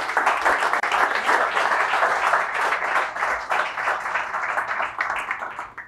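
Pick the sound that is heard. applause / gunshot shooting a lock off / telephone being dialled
applause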